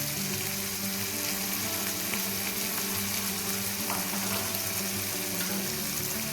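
Spices fry in hot oil for Gujarati spiced rice, a continuous dense sizzle with occasional crackles and stirring, steady and close with no talk.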